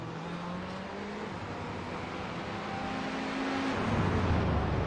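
Racing cars in a video game rush downhill through the corkscrew section at Laguna Seca, a steady loud engine drone with shifting pitch as several cars pass close together, building slightly louder toward the end.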